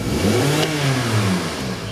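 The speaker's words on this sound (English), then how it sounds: "So we'll do a full rev, see what we get here." A Hyundai car engine with a throttle control fault revs hard and holds at high revs, a loud, steady mechanical roar close by with no talk.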